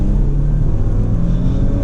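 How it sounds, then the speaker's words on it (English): A 2020 Porsche Macan S accelerates hard, its engine and turbo giving a steady, loud, low rumble heard from inside the cabin without a break. "That definitely kicks you back in your seat, and you can hear that turbo noise as well."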